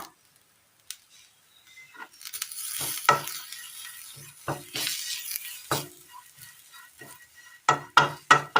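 Intermittent crackling and sizzling of curry leaves and spices in hot oil, punctuated by sharp spoon taps and scrapes against the pan, with quiet gaps between.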